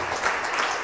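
Audience applause for a colleague at a Holy Week talk, steady dense clapping filling the short moment at even loudness with no voices over it.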